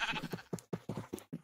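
Several sheep in a video game flock bleat in quick succession, short nasal calls popping up one after another at close range, with brief gaps between them.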